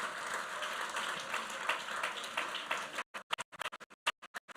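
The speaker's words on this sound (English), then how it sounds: "I think our head of service deserves a better round of applause." An audience at a civil service week press launch applauding its head of service. The clapping is steady and moderately loud at first, then cuts to a few scattered, separate claps before it ends.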